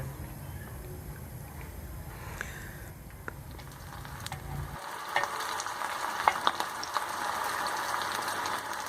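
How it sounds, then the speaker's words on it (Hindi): Kebabs drop into hot oil on a tawa, and a low rumble gives way to a rising bright sizzle with crackling pops. "अब हम इसके अंदर अपने कबाब डालकर फ्राई कर लेंगे।"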